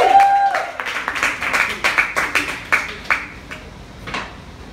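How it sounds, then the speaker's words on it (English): Scattered hand claps from a small comedy audience, uneven and fading, with a brief tone at the start and some clattering in between. "guys give him a round of applause?"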